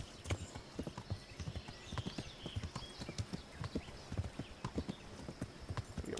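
Hooves clip-clop rapidly and rhythmically as a horse gallops in the medieval game Kingdom Come Deliverance, close and continuous, with faint other game sounds around it.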